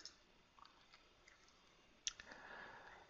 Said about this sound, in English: And I'm going to click on save.